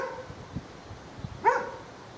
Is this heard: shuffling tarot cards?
no